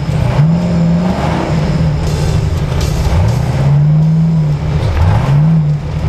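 Off-road race car engine at King of the Hammers roaring close and loud, its pitch rising and falling through repeated revs over a constant rumble.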